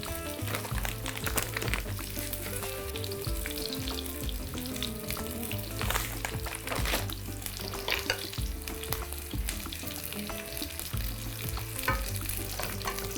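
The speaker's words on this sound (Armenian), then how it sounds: "Սերկևիլի կտորները հենց մի կողմից կարմրեցին, կշրջենք և կարմրացնենք նաև մյուս կողմը։" Quince pieces sizzle and fry steadily in a pan with sugar as they caramelize, a dense continuous crackle with occasional stirring scrapes, close up and with no talking.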